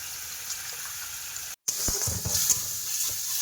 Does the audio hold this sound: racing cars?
no